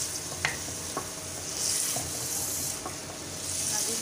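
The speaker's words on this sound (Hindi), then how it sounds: "और ये आहिस्ता आहिस्ता से हम भूनते रहे" Beef liver and tomatoes fry in a pan in a home kitchen, giving a steady close sizzle with a few soft scrapes of a spoon, heard alone with no talking.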